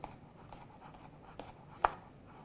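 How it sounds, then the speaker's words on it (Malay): Ingredients for steamed tofu with beef sambal chopped with a knife on a board, a few soft, sparse cuts with one sharper knock, quiet and close. "Kita cincangkan dia."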